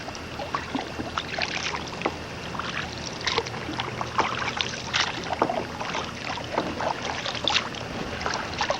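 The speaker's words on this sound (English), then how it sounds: "Off the beach. And we're kayaking." Kayak paddling on the water just off a beach: close, irregular splashes and drips of paddle strokes over a steady wash of surf and ambient water noise.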